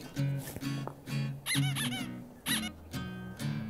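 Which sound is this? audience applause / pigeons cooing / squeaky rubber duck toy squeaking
squeaky rubber duck toy squeaking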